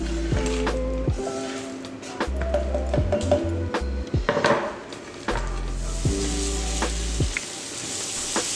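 Pecans toasting in melted butter in a pan, a soft frying sizzle with clicks and shuffles of stirring, punctuated by low tonal hums from nearby appliances, close and unspoken.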